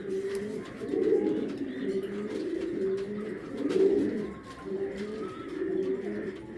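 Pigeons from a loft of Belgian, Dutch, Iraqi and Bangladeshi club birds coo in repeated soft, throaty rolls, several birds close by overlapping in a gentle pulsing rhythm.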